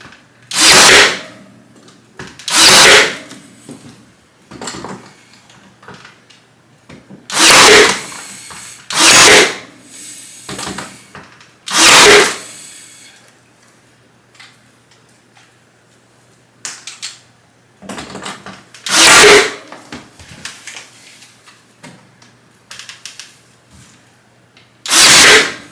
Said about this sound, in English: Get my finish nailer, and then I'm going to tack it, or I'm going to nail it in the studs